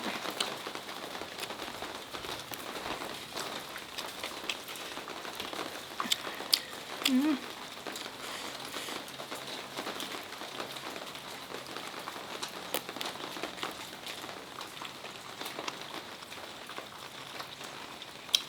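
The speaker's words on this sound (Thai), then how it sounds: "ฝนตกฝนตกพี่น้อง" Rain falls steadily with a constant pattering hiss and occasional louder drops, and someone talks intermittently above the downpour.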